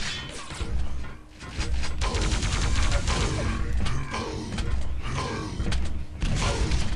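Dense, rapid gunfire in a capture-the-flag match of a shooter video game, loud continuous bursts with clanking mechanical impacts, crashes and thuds over several seconds.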